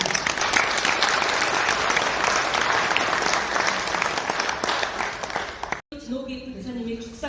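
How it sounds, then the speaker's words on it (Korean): Sustained applause from a large audience at an international academic forum in a Seoul hotel ballroom, dense and steady for several seconds before cutting off abruptly, followed by faint room sounds. "다시 한번 큰 박수 부탁드립니다."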